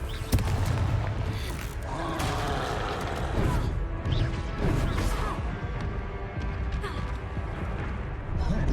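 Confringo blasting spell in the Hogwarts Legacy video game: several loud crashing blasts and whooshes come in quick succession, mixed with creaks and clattering debris over a dense battle din.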